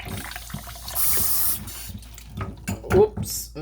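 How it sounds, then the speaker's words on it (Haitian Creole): Water runs from a tap into a basin in short bursts, splashing and gurgling close by with uneven pauses between pours. "Oups, je vide de l'eau."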